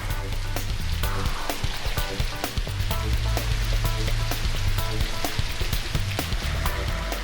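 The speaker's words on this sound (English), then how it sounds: "We want to goose up the throttle just a little bit, and we should have the perfect amount of rain." Artificial rain pours steadily from a rain machine, a dense, continuous hiss of drops striking a surface with scattered sharper patters, loud and unbroken with no voices.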